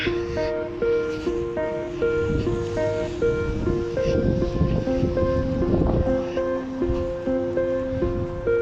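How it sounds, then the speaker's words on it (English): Wind rumbles and buffets the microphone in gusts, mixed with a repeating melodic tune playing nearby throughout. "And windy today."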